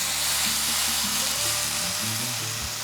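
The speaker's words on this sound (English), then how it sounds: "We got a nice sear happening" Bison New York strip steak sears in an oiled skillet with a loud, steady sizzle, close up, alongside low rumbling pan noise and no talking.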